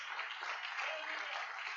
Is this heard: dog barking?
no